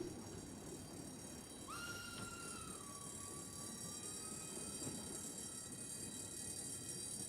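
A freight train rolls past with a steady, loud rumble of wagons on the rails, and a high metal wheel squeal rises and then fades partway through.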